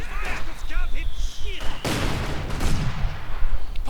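Machine gun and mortar fire crackle in a strategy video game, with a short burst of rapid shots followed by a loud blast, under a voice talking.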